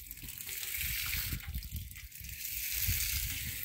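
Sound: cold well water being drawn

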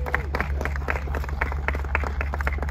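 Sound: audience applause for the unveiled 2023 RUF car

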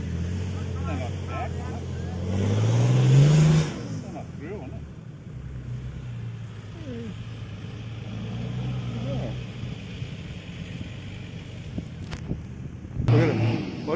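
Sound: four-wheel-drive vehicle driving and revving on sand

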